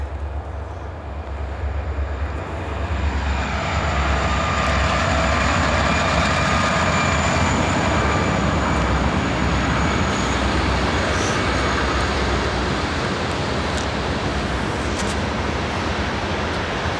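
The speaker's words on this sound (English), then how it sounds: "And here comes a train." A train rolls past close by near an abandoned office building in Valley Forge, a loud, steady broadband roar that swells in the first few seconds and holds for the rest of the stretch.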